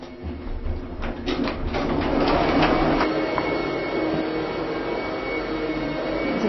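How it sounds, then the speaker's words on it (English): A vacuum cleaner drones steadily with a whining roar, its pitch shifting slightly as it works, with some clattering near the start. "You can hear the vacuum cleaner, Pancho cleaning on the different floors."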